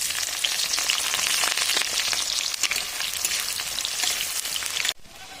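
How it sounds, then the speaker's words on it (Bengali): Chopped onions fry in hot oil in a wok, giving a dense, loud, continuous sizzle with a fine crackle throughout, ending suddenly near the close. "এবার দিয়ে দিচ্ছি পেঁয়াজ কুচি।"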